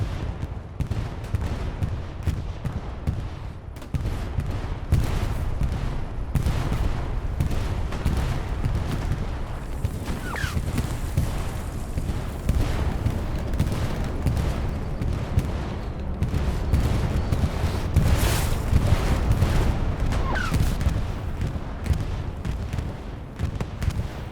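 A Katyusha rocket strike lands in a Hell Let Loose style match at Kursk Windmills, a long rumbling barrage of booming blasts and crackling gunfire rolling on for the whole stretch amid dense battlefield noise.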